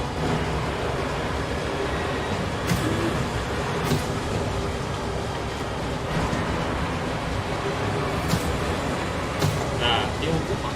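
A train rumbles steadily at a train station in the video game Forgotton Anne, a continuous low mechanical roar with a few brief sharp clanks, while a voice talks over it.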